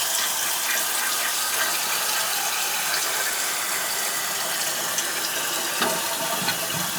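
Toilet flushing after its height was adjusted: a steady, loud rush of water runs close by throughout, with faint mechanical clicks near the end.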